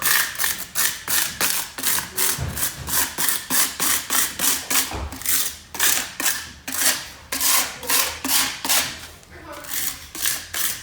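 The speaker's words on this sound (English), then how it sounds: "taking a putty knife and shoving it in and going at a 45-degree angle" Putty knife scraping grout into the joints of vinyl adhesive flooring at a 45-degree angle, a rapid, regular series of close rasping strokes with occasional knocks.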